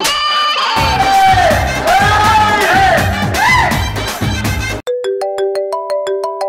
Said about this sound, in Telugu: ఇదేంది శోభనం సార్ ఫోన్ చేస్తున్నాడు?